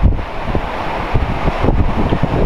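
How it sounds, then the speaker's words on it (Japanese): Strong wind buffets an outdoor mic at a cold competition, a steady roaring rumble with heavy low-end gusts that swell and ease throughout, no voices over it. "コンディションがね、むちゃくちゃ風吹いて難しい"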